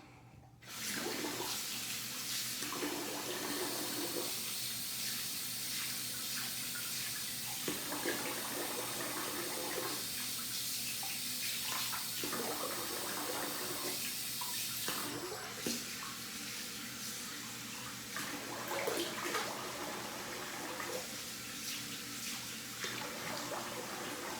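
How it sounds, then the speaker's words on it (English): Tap water running steadily into a sink while a face is rinsed, a close continuous splashing rush broken by brief changes in flow as hands scoop and splash, no speech. "let's rinse the face"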